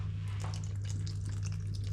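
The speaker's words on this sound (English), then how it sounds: "Just pour some water inside it like this." Bottled water poured into a thick soursop juice mix, a soft continuous trickling and splashing of liquid, close and fairly quiet, over a steady low hum.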